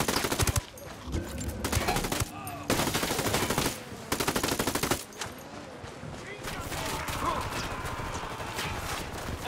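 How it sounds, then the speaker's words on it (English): Automatic rifle fire in the tactical shooter Ghost Recon Wildlands rattles in repeated bursts separated by brief pauses, loud and close, followed by a steadier stretch of combat noise. "I'm shooting these fuckers."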